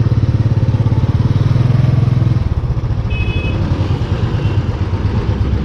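A motorcycle is push-started after a coastal ride. The engine catches and chugs loudly close by, its rapid pulsing beat shifting to a lower, rougher running note partway through.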